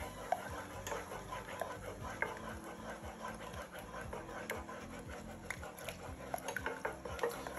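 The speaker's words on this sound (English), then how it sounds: "just keep stirring that to prevent any lumps forming whatsoever" A spoon stirs a sauce in a pan as milk is added for a croque madame muffin filling, giving steady faint scraping and tapping clicks that continue throughout.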